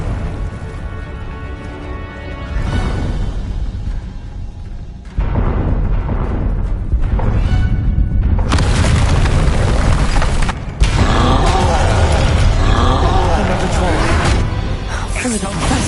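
Blasting-spell explosions in the video game Hogwarts Legacy, with loud booms and whooshing bursts stacked over a dense game soundtrack, mixed with speech.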